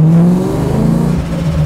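An SR20 engine in a Mustang drift car revs while warming up, a loud, close rising and falling drone with a brief pitch climb, no voices.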